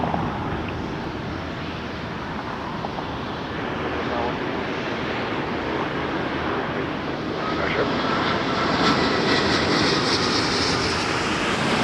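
Air Transat airliner departing Toronto Pearson, a sustained loud jet engine roar that swells toward the end, with radio chatter from air traffic control faintly underneath.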